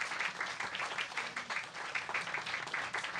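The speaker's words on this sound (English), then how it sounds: "one more round of applause, please, for Asha Thanki" Applause from an audience after a book reading, a modest crowd clapping in uneven pulsing waves that stay fairly close and steady for a few seconds.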